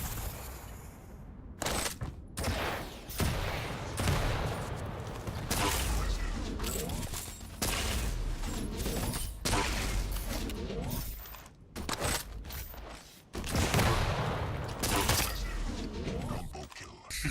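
Weapon fire in the Quake Champions first-person shooter, including rocket and railgun shots, with dense loud bursts and blasts running almost continuously, mixed with a voice talking over the action.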